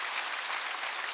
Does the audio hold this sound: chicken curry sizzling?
no